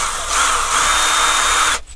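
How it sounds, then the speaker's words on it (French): A power drill boring a small hole while fitting window insulation, running loud and steady for nearly two seconds before stopping abruptly. "je vais juste faire un petit trou, donc à la perceuse"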